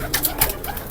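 A fancier's pigeon cooing in short soft pulses, a few quick throaty coos close by with no talk.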